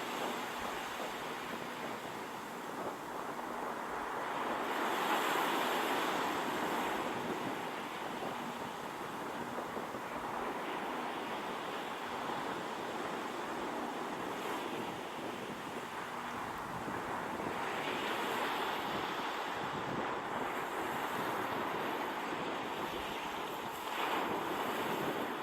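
Low sea waves on the volcanic Jeju coast in Korea, heard as a continuous soft wash of surf with heavy wind buffeting the microphone and no talking.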